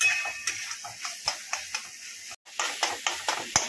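Spiced masala frying with bitter gourd in a pan, close up, with soft sizzling under a steady run of sharp stirring and scraping clicks from a spoon, spaced about every quarter second.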